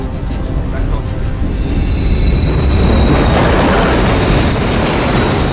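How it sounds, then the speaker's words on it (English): A train in Call of Duty: Modern Warfare 3 rumbles past with heavy low-frequency roar and rising wheel noise, growing louder over a few seconds; a high tone lingers in the background. "Another train coming."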